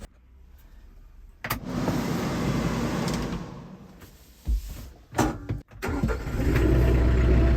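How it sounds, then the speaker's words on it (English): An older farm tractor, fitted with a battery that has more cold cranking amps, cranks and fires up outdoors on a farm, with a few short clunks and cranking bursts before the engine settles into a loud, steady idle. "this tractor's been firing right up no matter the weather"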